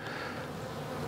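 Honeybees buzz steadily from an opened hive during a warm-weather winter brood inspection, a close, dense and continuous hum with no voices.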